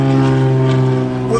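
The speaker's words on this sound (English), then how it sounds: "a plane goes over" An airplane passes overhead with a steady, droning hum that stays fairly loud and even throughout the short stretch.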